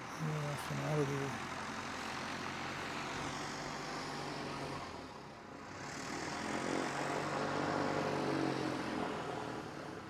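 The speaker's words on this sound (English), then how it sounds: "You can see an incoming aircraft." Propeller aircraft engine droning steadily at an aero club airfield, loud and sustained for the whole span with a brief dip midway, as if passing or taxiing nearby.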